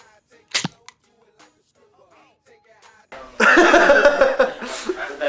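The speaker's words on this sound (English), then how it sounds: "Like Sam shot himself in the eye." A single sharp crack of a prop cap gun fired on a film set, followed by a quiet stretch and then loud overlapping voices and laughter from the crew.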